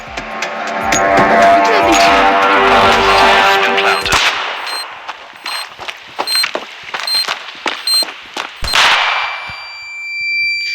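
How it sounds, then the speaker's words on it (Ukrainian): Grenade thrown in a Standoff 2 shooter match: loud gunfire and metallic clangs, then a sharp blast near the end, with scattered impact sounds and a fading ring. "Ти сам кинул гранат"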